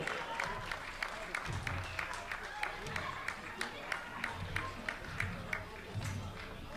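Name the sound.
volunteers applauding at athletics meeting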